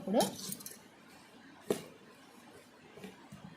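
A spoon stirs bitter gourd pickle with garlic and lemon juice in a metal vessel, giving a few sparse, close clinks and scrapes: a sharp one at the start, another near the middle and soft taps at the end.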